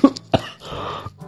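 A couple of sharp, throaty coughs from a voice imitating coughing, then a short raspy breathy sound, close and fairly loud.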